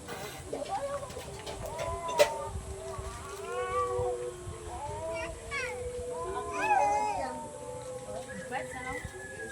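Hens cluck and chatter in wavering, broken calls at close range, with people talking in the background.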